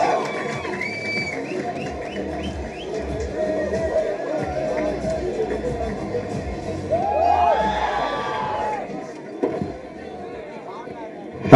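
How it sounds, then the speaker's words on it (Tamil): A large crowd at a film first-look launch event cheers and whoops, with shouting voices swelling in the middle before settling back into a steady roar. "டிஎஸ்கே இன்னொரு நல்ல கைத்தட்டல் கொடுக்கலாமே ப்ளீஸ்."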